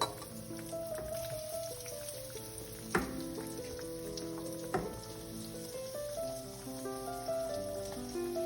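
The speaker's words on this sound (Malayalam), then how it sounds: "അപ്പോൾ അത് നമ്മൾ ഓരോന്നായിട്ട് എണ്ണയിൽ ഇടാൻ പോകുന്നേ" Cornstarch-coated pieces of cooked idli fry in oil with a steady, rain-like bubbling sizzle throughout, with a couple of brief louder crackles partway through.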